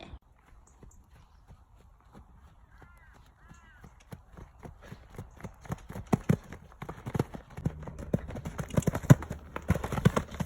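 Hooves of a pony clip-clopping on a ride, soft and sparse at first, then a steady quickening beat that grows louder and busier toward the end.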